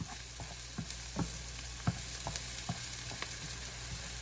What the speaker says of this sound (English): Going in with that garlic. Gonna let this work in for about 30 seconds.